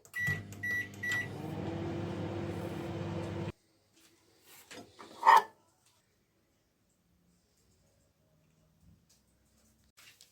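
A microwave oven runs at full power while heating pita bread, giving a steady hum for a few seconds after a short series of beeps. The hum cuts off, followed by a brief clunk of the door and then near silence.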